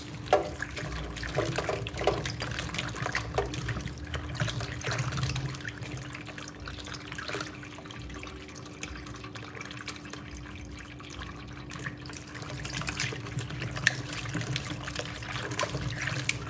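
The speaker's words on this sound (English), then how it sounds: "right now I'm washing my potatoes" Tap water runs steadily over potatoes being washed in a kitchen sink, a constant splashing trickle with a faint electrical hum beneath and no talking.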